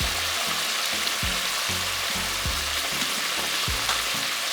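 Mustard sauce bubbling in a pan, a steady close sizzle and boil with soft rhythmic pops throughout, no voices.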